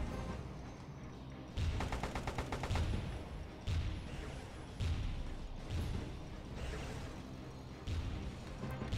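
Anti-aircraft gunfire in the Airfix Dogfighter air combat game, bursts of rapid gunshots and thumping blasts repeating every second or so, moderately loud and without talk.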